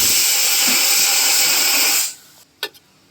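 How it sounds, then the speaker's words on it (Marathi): Pressure cooker whistle releasing steam while sambar cooks, a loud continuous hissing whistle that cuts off after about two seconds, followed by a couple of faint clicks. "आणि इकडे पण आता आपल्या शिट्या झालेल्या आहेत"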